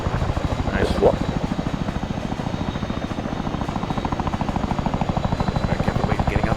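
Chinook twin-rotor helicopter in Arma 3, a loud, close, rapid rotor chop pulsing evenly under a whining turbine hum, with a voice speaking briefly over it.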